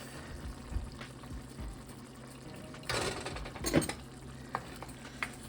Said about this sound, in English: We're just gonna stir it around.